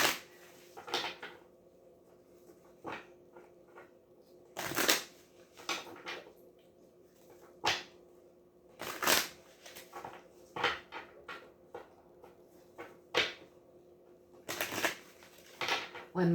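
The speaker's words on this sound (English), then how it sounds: "One more shuffle." Tarot cards handled and shuffled on a table, with scattered bursts of riffling and card snaps separated by quiet gaps, close and crisp, alongside occasional speech.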